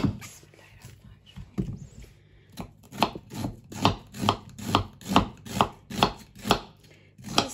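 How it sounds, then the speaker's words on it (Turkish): A knife chopping onions on a board for stuffed peppers, starting unevenly then settling into a steady run of crisp, close cuts. "Soğanlarımızı normal yemeklik doğruyoruz."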